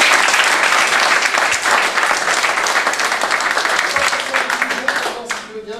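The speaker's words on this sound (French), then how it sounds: "Applaudissements." A stadium audience at a French football event in Lyon claps loudly and continuously, dense and close, then fades out near the end.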